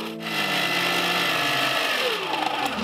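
A musk confectionery sugar mixture is beaten with an electric whisk, giving a loud, steady motor whine with a dense grinding texture that stays close and continuous and shifts slightly in pitch near the end.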